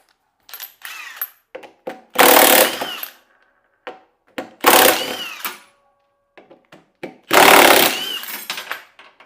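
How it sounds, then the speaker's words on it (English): A power tool drives out two 10 mm bolts holding the motor of a Bosch washing machine, with three loud whirring bursts separated by quieter clicks and handling noises. "You're going to remove these two 10 mil"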